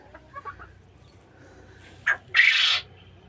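A few soft clucks, then two louder, sharper squawks from a nearby chicken in an otherwise quiet setting.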